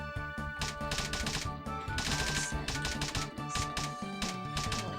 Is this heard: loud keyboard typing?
yes